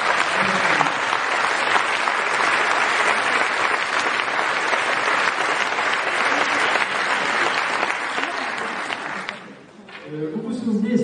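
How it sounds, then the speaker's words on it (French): An audience claps in welcome at a religion and spirituality talk, with dense, sustained applause filling the room at a steady level. The clapping fades near the end as a voice starts speaking. "Vous pouvez l'applaudir un signe d'accueil."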